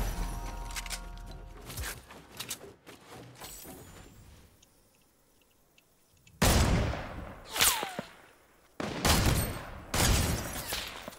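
Fortnite gunfire rings out in bursts, with a few scattered early shots, a quiet lull, then loud rapid volleys close in near the end.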